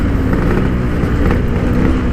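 Motorcycle fitted with an aftermarket exhaust revving hard, a loud, steady, close engine roar that holds throughout with slight surges and no talk over it.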